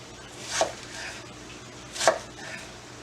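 Two sharp knife strikes on a cutting board, about a second and a half apart, as an onion is finely diced with each cut going all the way through; close and clear with no talking.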